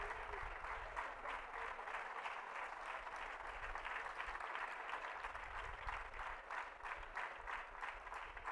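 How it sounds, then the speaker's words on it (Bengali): Students clapping at a football tournament captains' meet, a dense, continuous round of applause from a crowd lasting the whole stretch with no talk. "টাকির ছাত্র ভাইরা সকলে হাততালি দিচ্ছে"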